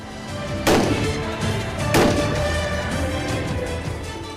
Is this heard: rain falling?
no